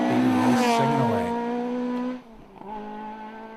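A rally car on a tarmac stage of the Irish Tarmac Rally Championship in Galway holds a loud, steady, harmonic engine note at close range, then drops off sharply and settles into a quieter, lower tone.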